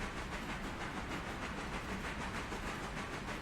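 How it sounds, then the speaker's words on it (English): Freight train rolling past in the railway game Railroader, a steady dense rumble and hiss with faint rhythmic wheel clatter, constant and fairly quiet with no voices. "Great looking freight train."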